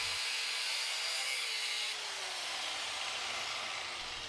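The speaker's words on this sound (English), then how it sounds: "Now I'll be partially cutting through the center with a cutoff wheel." An abrasive cutoff wheel partially cuts through the center of a forged Damascus steel ring, giving a steady, continuous grinding hiss that runs the whole time without a break and sits at fairly low volume.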